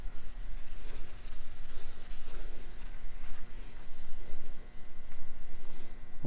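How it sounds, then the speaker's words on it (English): A magic eraser rubs grime off a 1971 Ford F100 Bumpside in a steady back-and-forth scrubbing, close and continuous with rhythmic swells and no talking. "the magic eraser wipes it right away"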